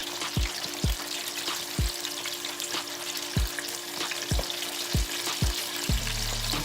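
Chicken legs and thighs fry in hot oil in a steady, close sizzle, with a series of dull knocks and clunks every second or so as pieces shift in the pan. The final second swells into a louder rush.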